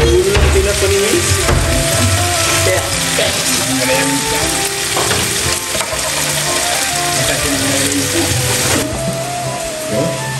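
Garlic and onion frying in a pan give a loud, steady sizzle throughout, with scraping and stirring sounds mixed in and no clear talk.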